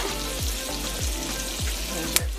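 Butter with thyme and garlic sizzles steadily in a hot pan under a constant crackling hiss, with a few soft periodic scrapes and a sharp tap near the end; no speech.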